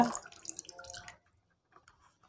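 Paint thinner poured from a bottle onto a ball, a short trickling, splashing pour that runs about a second and then stops, followed by a few faint drips.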